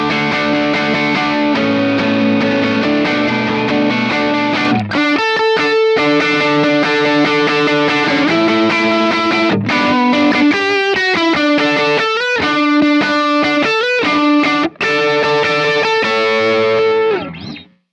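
Electric guitar run through a Klon-style overdrive boost on a worship pedalboard, playing a gritty, sustained rhythm part that jumps into brighter lead lines, steady and loud throughout with no speech.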